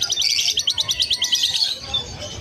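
Caged birds at a pet market, red hood and green opaline finches among them, give a rapid run of high chirps up close, then the twittering thins out and fades.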